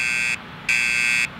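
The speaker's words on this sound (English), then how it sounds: "let's pull the alarm" A fire alarm pulled in a Roblox school game blares in two long electronic buzzer tones separated by a short gap, loud and harsh, with no voices.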